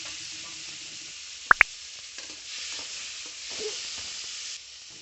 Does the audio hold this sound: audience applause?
no